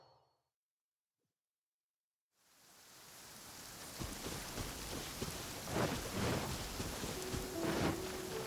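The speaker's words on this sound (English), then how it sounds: "I love listening to the rain from the courtyard." Rain falls in a courtyard in Genshin Impact, fading in from silence to a steady hiss of drops with occasional louder splashes and a low rumble, continuous and enveloping.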